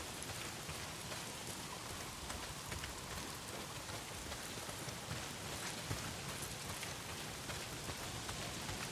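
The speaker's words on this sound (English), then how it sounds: "Well, not if it's pissing down rain." Heavy rain pours steadily in the post-apocalyptic video game Days Gone, a dense, constant hiss of downpour with no letup across the whole stretch and no voices over it.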